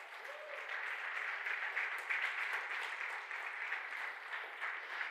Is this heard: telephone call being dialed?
no